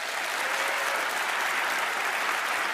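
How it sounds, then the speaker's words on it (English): A large studio audience at the magic show Penn and Teller: Fool Us claps steadily and continuously, a dense, even wash of applause at constant loudness with no one speaking. "Big round of applause."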